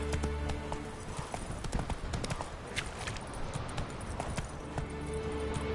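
Horse galloping in The Witcher 3: Wild Hunt on PS4, a fast continuous drumming of hooves on the ground with a brief whinny, heard alongside game ambience.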